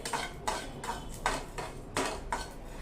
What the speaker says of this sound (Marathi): मस्त खमंग भाजून घ्यायचं हे